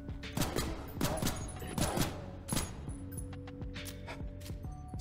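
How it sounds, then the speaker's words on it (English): Gunshots crack out in the FPS roguelike SULFUR, a burst of loud sharp reports clustered early, then a few fainter shots over humming game ambience. "that's when you hear a gunshot ring out"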